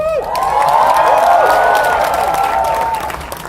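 Applause and cheering from an audience filling a room at a Marvel fan event, a loud, sustained wash of clapping and shouts with whistle-like whoops rising over it, fading slightly toward the end.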